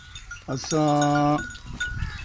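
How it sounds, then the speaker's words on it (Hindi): A sheep from a grazing flock of sheep and goats lets out one loud, close, wavering bleat that lasts under a second, with faint outdoor murmur and low rumble before and after. "ये भेड़ें सब आपकी हैं?"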